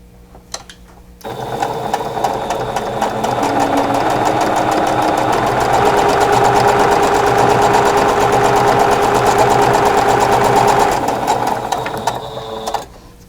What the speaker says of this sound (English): So we're going to go back to the sewing machine.